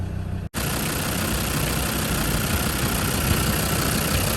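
A Land Rover Defender 90 TD5 diesel engine with 147,000 miles idles steadily at close range, a continuous low rumble with an even mechanical drone, after a brief dropout at the start.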